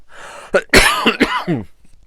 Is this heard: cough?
yes